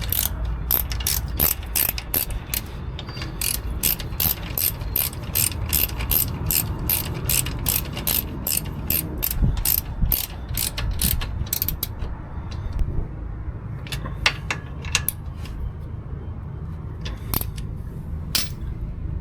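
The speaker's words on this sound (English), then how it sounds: "You get your 13mm and tighten them up to spec" A 13mm ratchet clicks steadily as it tightens a suspension nut and bolt on a 1995 Ford EF Fairmont during rear suspension work. The pawl sounds in rapid close bursts over the first twelve seconds, then gives a few sparse clicks.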